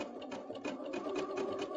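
A sewing machine stitches a zigzag seam on a fabric medical mask, running in a quick, steady mechanical rattle close by with no talking.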